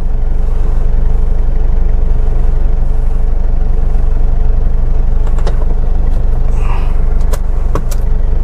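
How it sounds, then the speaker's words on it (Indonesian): Kia Pregio diesel minibus with a 2700 cc engine idling up close, a loud, steady rumble with a few light metallic clicks near the end. "Tapi kalau suara diesel itu enaknya tuh dengernya itu merdu,"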